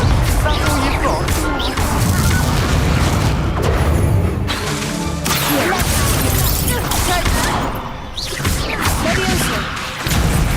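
Booming Confringo blast spells erupt in a Hogwarts Legacy duel, loud and dense, layered with crashes, whooshes and combat effects throughout, with a voice shouting spell names over the din.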